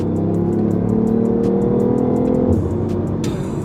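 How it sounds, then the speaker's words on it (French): BMW i8 hybrid three-cylinder engine revving steadily with a sustained throbbing drone, dropping in pitch after a few seconds like a gear change, heard from inside the car. "BMW a vraiment travaillé le son de ce 3 cylindres"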